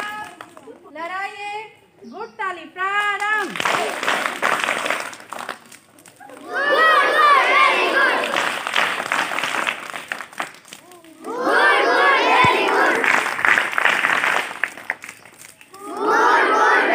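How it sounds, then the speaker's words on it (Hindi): Group of scouts performing the Good Tali scout clap: loud, repeated bursts of unison shouted chanting and clapping, separated by short pauses. "स्काउट ताली का ये गुड ताली बहुत ही अच्छा ताली है"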